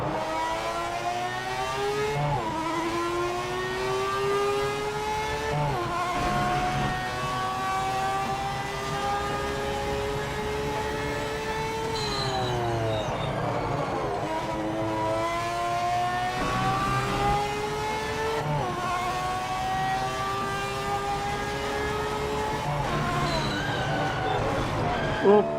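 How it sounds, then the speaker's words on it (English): Race car engine in a PC racing video game revving hard through repeated rising gear pulls, each climb dropping sharply at a shift, loud and continuous with a person speaking over it. "I hope you guys are getting as much enjoyment of listening to this car as I am."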